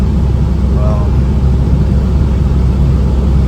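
A Mitsubishi Eclipse with a 420a engine, its fuel pump just fixed and alternator replaced, on a test drive: a steady low rumble of engine and road from inside the car, constant and fairly loud throughout.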